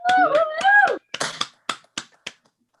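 A voice first sings or hums a melodic phrase, then four or five sharp finger snaps given as applause follow one by one, spaced out and fading.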